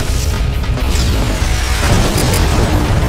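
A mine detonates in the video game Terminator: Dawn of Fate, giving a loud, sustained low boom that rumbles on as debris crashes over the whole stretch, with no talk.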